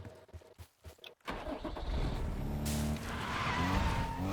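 Car engine starting in a video game: a few sputtering turns and thumps, then the engine catches and settles into a steady loud idle that climbs into a rising rev.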